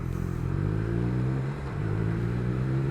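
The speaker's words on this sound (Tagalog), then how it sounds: "Ang ganda ng tunog ng muffler sa personal." A Triumph Trident 660 motorcycle fitted with a new muffler and exhaust pipe idles with a steady, deep, full-bodied rumble, dipping briefly midway before settling back into an even drone.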